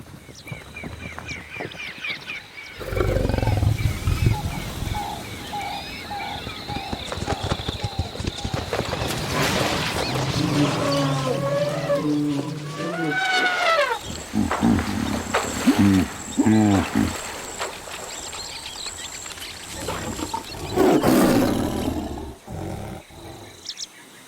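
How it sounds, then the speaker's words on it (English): Wildlife of Kruger National Park with roaring lions: deep, rumbling roars rise out of a dense, busy wild soundscape of bird calls and clip-clopping hooves, loud and layered, with a voice mixed in. "All sounds related to the Kruger National Park is my personal wonder of sound, my paradise."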